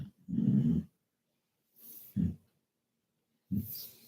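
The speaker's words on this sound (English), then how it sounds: "it's my damn dog snoring" Slow, heavy snoring from a dog, three rough breaths spaced a second or two apart, close by in an otherwise quiet room.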